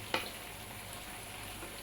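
Salt cod cooking in a pan for a Congolese dish: a faint, steady low sizzle with one brief sharp clink near the start, otherwise quiet and even, no talking.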